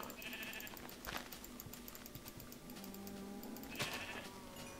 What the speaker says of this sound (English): Oh, and we got sheep.